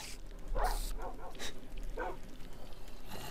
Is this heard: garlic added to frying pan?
no